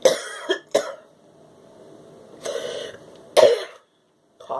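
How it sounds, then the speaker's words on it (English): Several harsh coughs in separate bursts, close to the microphone, with quiet pauses and a soft breathy sound between them. "Coughing on my cell, another clearing technique."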